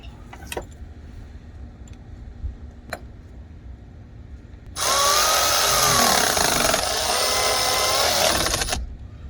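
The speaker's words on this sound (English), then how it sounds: "If you're using a power tool with this that's got a variable trigger, just push it a little bit." On a 2009 Chevy Silverado, a power tool tightens a car battery terminal nut with about four seconds of loud steady whirring, preceded by a few faint clinks of metal.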